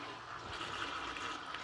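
Water churning and spinning inside a viral paintbrush washer, a steady close rushing swirl with no pauses and no voices.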